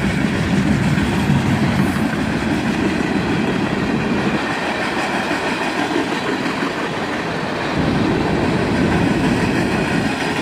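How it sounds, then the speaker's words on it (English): A CSX mixed manifest freight train rolls past on a hot July day, a steady loud rumble of wheels and cars with rhythmic clickety-clack, dipping briefly midway before the roar builds again. "They used to call these mixed manifest trains junk trains"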